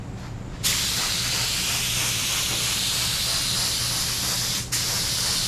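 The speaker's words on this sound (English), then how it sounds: "Hear the gun hissing?" A steady, loud, pulsating hiss from a DeVilbiss FLG4 spray gun runs almost the whole time, with a brief cut-off near the end before the hiss resumes.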